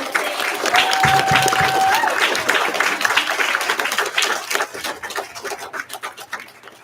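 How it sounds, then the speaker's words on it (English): An audience at a fourth-grade opening ceremony applauds, a dense burst of clapping that starts full and gradually thins and fades toward the end, with a brief tone near the start. "we give these fabulous fourth graders one more round of applause?"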